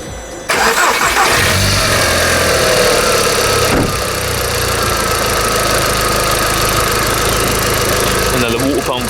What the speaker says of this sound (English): I'm going to have to turn the car on until it drains itself through.